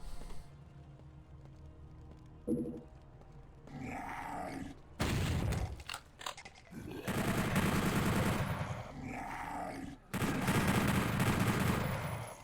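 Chaingunner enemies firing in Doom 64 on PlayStation, at Doomslayer difficulty: long sustained bursts of rapid automatic gunfire in several loud stretches with brief gaps, mixed with grunts and booms of combat.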